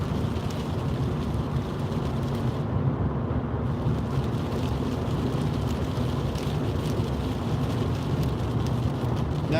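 Steady rain drums on a car driving home along a slip road near a motorway junction in stormy weather, a dense continuous wash of noise with road rumble underneath and no talking.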